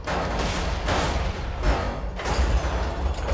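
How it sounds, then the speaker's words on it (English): Repeated heavy cannon blasts in the video game Borderlands 2, four booming thuds about a second apart, each with a broad rumbling burst, mid-loud and not masked by voices. "Fire the cannon!"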